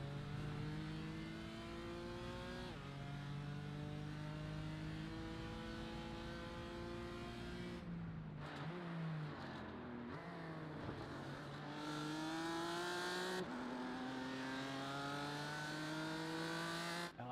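Race cars in a BMW sim racing game at Circuit Zolder drone steadily with engine tones rising and falling through shifts, and the pitch bends briefly as the cars slide through a corner.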